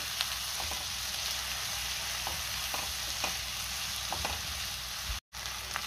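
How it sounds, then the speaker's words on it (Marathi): Tomatoes sautéing in a pan for restaurant-style paneer cashew masala, a steady dense sizzle with occasional spoon taps and stirs, close and continuous, briefly cutting out near the end. "टोमॅटो सुद्धा थोडा सॉफ्ट होईपर्यंत परतून घ्यायचा आहे"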